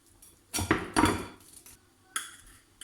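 A knife cuts straight through a tuna pizza cooked in a frying pan, making sharp metallic clinks and scrapes against the pan in a few distinct strikes, with quiet pauses between them.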